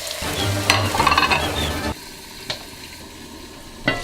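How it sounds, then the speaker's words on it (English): Lamb meat for Uzbek plov fries in a pot, a loud close sizzle and hiss that fades after a couple of seconds, followed by a few brief knocks. "we will go ahead and put the meat into it"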